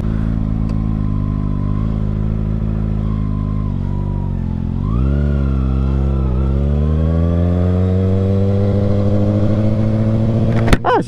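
A 2023 Kawasaki Ninja ZX6R 636 motorcycle being ridden, its engine droning steadily, then rising in pitch as it accelerates midway and holding a higher, louder whine toward the end, with no talk over it.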